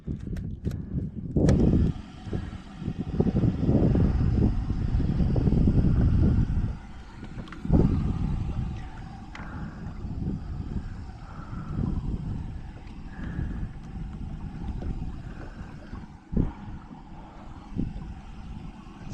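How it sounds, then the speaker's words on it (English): Small electric trolling motor pushing a kayak across open water on a cool morning while fishing for crappie, a steady low rumble with sloshing and wind buffeting the microphone, fairly loud and close throughout. "trolling motor going."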